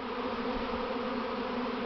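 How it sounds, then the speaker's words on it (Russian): Honeybee swarm issuing from a hive at midday, a dense continuous buzzing hum that stays steady and fairly loud throughout with no talk. "у нас вышел рой"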